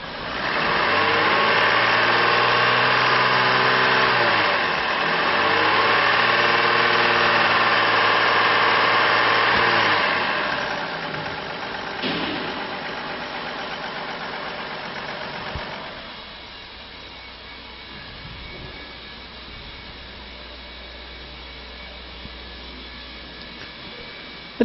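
A 2005 Chevy Trailblazer with a 4.2 liter engine and automatic transmission idles steadily and loudly, with a low hum. The level drops noticeably partway through and stays softer to the end, with no talking.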